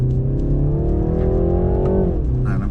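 A BMW 330i G20 engine pulls hard in second gear, a steady loud drone whose pitch climbs smoothly and then drops briefly at a shift or lift before settling again.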